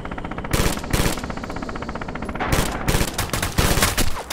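Gunfire in the Red Orchestra 2 game: loud, close bursts of rapid shots broken by short pauses, with a long rattling burst near the end.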